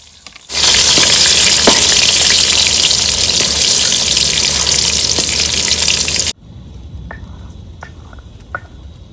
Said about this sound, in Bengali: তেল গরম হয়ে গেছে, আলুটা দিয়ে নেবো।